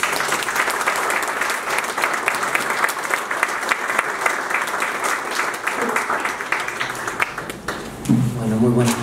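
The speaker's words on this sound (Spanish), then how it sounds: "Lo recibimos con un fuerte aplauso." An evening crowd at an International Day of the Family event in Buenos Aires gives a loud, sustained round of applause to welcome a speaker. Dense clapping fills most of the stretch, then a voice begins speaking near the end.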